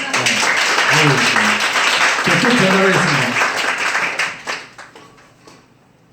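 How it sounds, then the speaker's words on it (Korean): An audience at an education case presentation in a hall gives a dense burst of clapping. A speaker talks over it, and the clapping fades out over the last couple of seconds. "박수로 한번."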